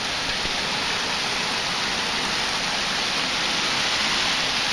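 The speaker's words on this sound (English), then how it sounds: "It's a big rainstorm." Heavy rain pours down in a dense, continuous hiss of falling water, loud and steady throughout with no talk over it.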